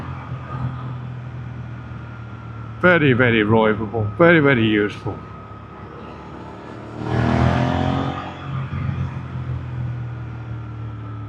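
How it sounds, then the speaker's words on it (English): A Suzuki GSX-8R motorcycle engine surges as the throttle is opened, a short loud roar of acceleration rising from steady road noise after someone speaks. "you just turn the throttle and woof, away you go"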